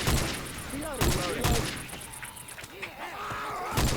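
Gunfire in the zombie shooter Left 4 Dead 2, several loud sharp shots in irregular bursts mixed with in-game groans and thuds, with a voice talking faintly underneath.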